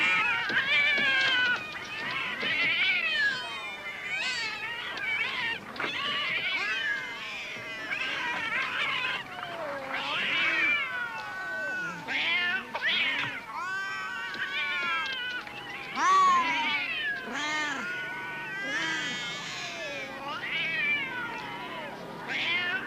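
A cat meows and caterwauls again and again, with wavering, drawn-out cries that rise and fall, close and fairly loud over about twenty seconds.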